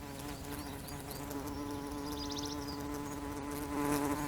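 A fly buzzes close around a South African flower, a sustained whining drone that wavers in pitch and swells slightly louder near the end, with no voices.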